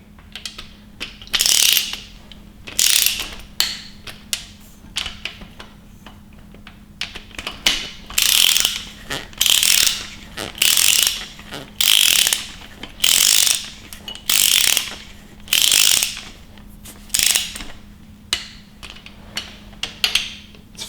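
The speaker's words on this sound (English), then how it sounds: "It's funny with a torque wrench this big, you barely even feel the click." Torque wrench ratcheting in repeated quick bursts while assembling a 5.7L Hemi engine with the MDS deleted, a 6.4 cam and upgraded valve springs; crisp close clicking runs in regular strokes with short pauses between passes, no talk.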